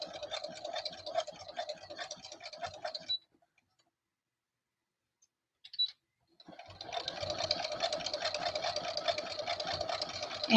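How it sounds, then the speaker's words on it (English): A sewing machine stitches a zigzag seam on textile in two close, steady bursts of rapid mechanical clatter, separated by a few seconds of silence with a brief tap in between. "I'm just going to put that on using the zigzag stitch."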